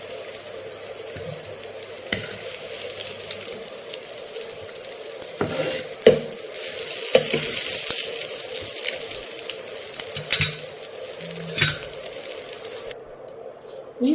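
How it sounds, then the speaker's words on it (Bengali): Bitter gourd slices frying in oil in a pan make a steady, watery hiss, broken by a few sharp clinks and scrapes of a utensil, with no talk. "উচ্ছেগুলো ভাজা হয়ে গেছে, এবার আমি তুলে নেব।"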